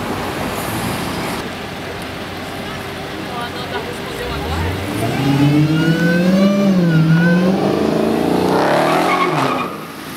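A Dodge sports car's engine revs up and roars past on a city street at an exotic car gathering, rising and falling in pitch over steady traffic noise, loud and close.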